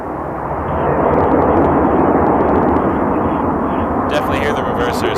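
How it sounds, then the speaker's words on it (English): Airliner landing at night at Toronto Pearson Airport with engine thrust reversers deployed, a loud, sustained broadband roar that swells early and holds steady, with a brief crackle of radio chatter near the end. "Definitely hear the reversers tonight."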